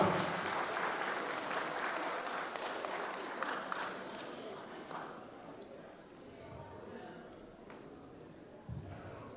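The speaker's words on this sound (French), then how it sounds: "Applaudissons pour Bara Fatma." Audience applause at a Faso Italie cultural evening, a dense sustained wash of clapping from a crowd that gradually thins and fades, with voices murmuring underneath.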